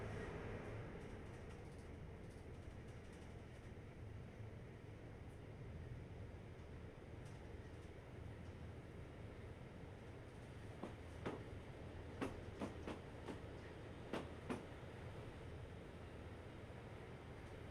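A passenger and mail train runs on rails in the Train Life railway simulator on a London to Calais route, a quiet, steady low rumble with a few faint clacks toward the end.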